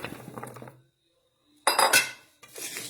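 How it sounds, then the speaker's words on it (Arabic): Potatoes being laid into a metal baking tray for a potato and fish bake, giving loud clattering and clinking bursts of metal and utensils, separated by a brief quiet pause. "قبل اي حاجة طبعا هنحط البطاطس كده في الصينية"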